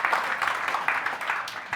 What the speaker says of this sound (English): So I want everyone to give you a round of applause to each other for being here